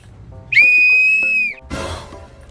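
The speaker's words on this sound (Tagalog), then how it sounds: "Susubukan ko yung pito." A toy whistle is blown once in a long, shrill, steady tone lasting about a second, followed by a short burst of rustling noise, with no talking.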